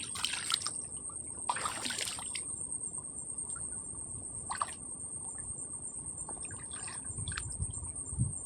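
Water trickles softly in a forest, a faint steady dribble beneath a constant high insect drone, with a few brief louder splashes and rustles.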